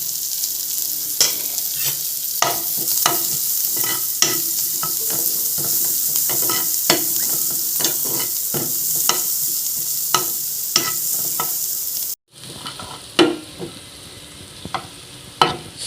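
Onion and chilli sautéing in a pan for white sauce pasta, a steady hissing sizzle punctuated by regular scraping stirs of a spatula, close up, with a brief cut and louder stirring near the end.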